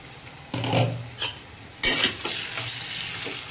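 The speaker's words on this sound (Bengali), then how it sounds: "এই যে আলুর দম আমি রান্না করছি মশলা দিয়ে" Spiced potato curry (aloo dum) cooking in a kadai, an oily sizzle broken by several loud spatula scrapes and metallic clatters against the pan, close and fairly loud.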